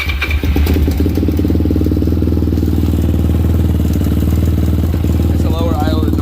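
A Daytona Anima motorcycle, just reassembled after a teardown, idles low with a steady, close, throbbing putter that runs throughout, while someone talks over it.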